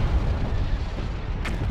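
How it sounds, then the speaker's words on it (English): Explosions rumble through a space battle in a strategy game (Awakening of the Rebellion 2.8), forming a dense continuous roar with a short crackling burst near the end and no talking. "I want to cause the explosions"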